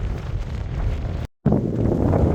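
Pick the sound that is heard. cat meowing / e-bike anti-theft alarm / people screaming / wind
wind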